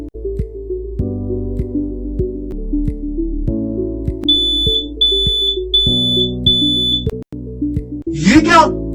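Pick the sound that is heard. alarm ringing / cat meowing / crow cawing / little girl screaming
alarm ringing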